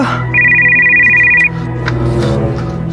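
A phone ringtone plays loudly as a bright steady electronic tone that lasts about a second before a call is answered, over a busy background of music-like tones.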